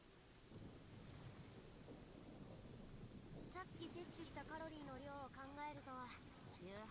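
Thunder rolls with steady rain in a Genshin Impact storm, a deep continuous rumble; a voice joins partway through.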